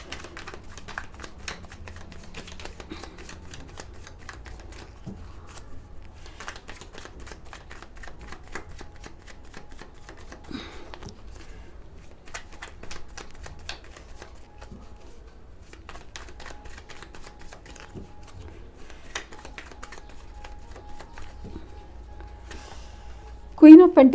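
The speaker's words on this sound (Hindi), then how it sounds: "इसके लिए मैं कार्ड्स शफल करके लूँगी" Tarot cards are shuffled in soft riffling, flicking bursts that repeat through a quiet room, close and light, with a brief louder knock at the very end.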